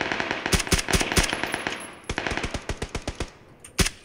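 Bursts of automatic gunfire from another squad in PUBG: Battlegrounds, a run of sharp rapid shots, a pause, then a second rhythmic string of shots and a final loud crack, no talking.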